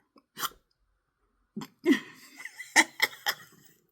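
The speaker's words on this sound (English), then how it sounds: "I was going to hiccup and belch at the same time." A woman lets out a hiccup and a belch at once, a faint throaty gulp followed by a few short voiced bursts and breathy sounds, in a quiet room.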